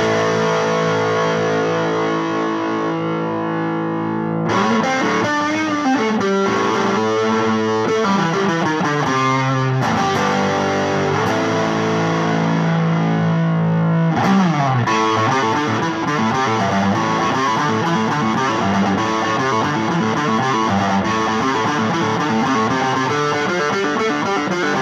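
A Tanglewood jazz prototype guitar played through a Roland JC40 Jazz Chorus amp with centred EQ, no effects and a touch of reverb, strummed chords and picked lines ringing loud and full with no talking.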